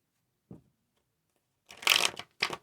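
Tarot cards shuffled by hand: one soft tap, then a riffle of shuffling bursts close up, followed by a final short shuffle, with no voices.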